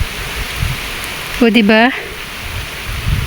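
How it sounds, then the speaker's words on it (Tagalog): Steady rain falling outdoors, a constant soft hiss throughout, with a brief spoken remark from a person in the middle. "sisilong ako dito kasi umuulan na."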